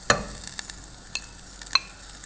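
Beef strips frying in a pan with spices as they are stirred, a faint steady sizzle punctuated by several sharp scraping clicks of the utensil against the pan.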